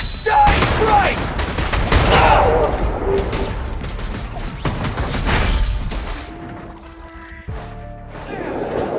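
Gunfire in the action game Zenless Zone Zero, with dense bursts of shots and crashes crowding the first six seconds, then thinning out under game music and voices.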